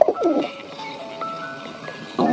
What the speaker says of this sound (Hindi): तभी मुझे छत के ऊपर कुछ कबूतरों के आने की आवाज आई।